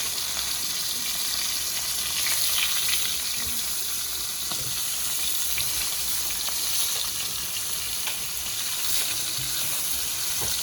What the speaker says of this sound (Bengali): আরো পোড়া করে ভাজতে হবে